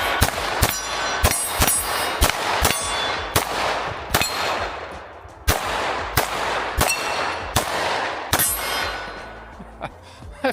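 Ruger RXM pistol rounds strike steel targets in a rapid string of sharp metallic clangs, about a dozen loud ringing hits spaced irregularly, each with a short decaying ring, with a few fainter ones near the end.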